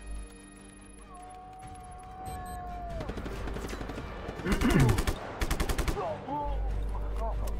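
Machine gun fire in the open-world action game Just Cause 3 comes in rapid, loud bursts, heaviest near the middle, mixed with other game effects and a rising whistle-like tone.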